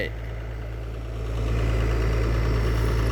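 A souped-up water-pump engine, brought in to drain a village pond for fishing, idles steadily up close, a loud continuous low drone that swells slightly after the first second and holds even, with no voices.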